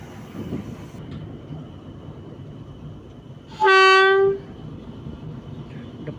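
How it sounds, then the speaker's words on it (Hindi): The HBU-20 8046 locomotive leading a PDK shuttle train at Pind Dadan Khan sounds its departure whistle once, a loud tonal blast lasting under a second over steady engine rumble. "डिपार्चर विसल हुआ और ट्रेन डिपार्चर किया पिंडर खान से।"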